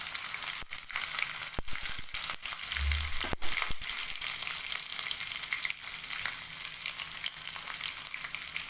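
Mustard seeds and chopped green chilli sizzle in hot oil on a low flame for Gujarati khandvi, a steady bright frying hiss broken by sharp popping crackles and a brief low stirring clatter.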